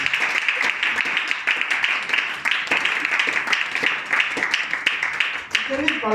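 A church congregation applauding during a Sunday sermon, sustained clapping mixed with loud voices and cheering, lively and close throughout.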